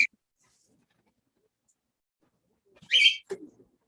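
A pet bird gives one brief, bright chirping burst near the end of a mostly silent stretch, followed by a softer, lower scrape.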